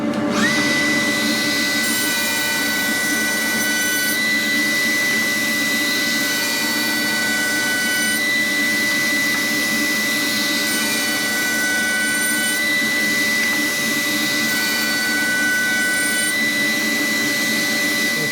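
A router table spinning steadily while cutting tenons on the rails of a wooden Shaker side table, a continuous high whine with sustained tones and a broadband cutting roar, close and loud, with no talking.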